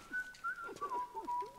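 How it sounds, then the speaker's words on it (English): A character in the video game Bioshock whistles a wandering tune while working, a thin, clear melody at moderate distance with short breaks between phrases. "Oh, it's just whistling while he works."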